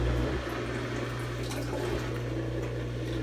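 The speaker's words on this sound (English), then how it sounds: "Sounds like a decent motor for the draining." A Kuppet twin tub portable mini washing machine drains water, giving a steady, continuous rush of flowing water over a constant low pump motor hum, close and even throughout with no talking.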